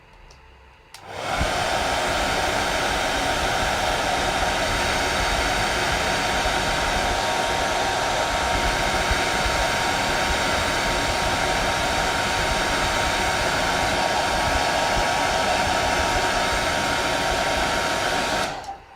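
A hair dryer blows on paint on a drawing, roaring loud and close as a steady, unbroken rush of air that starts abruptly after a second and runs almost to the end.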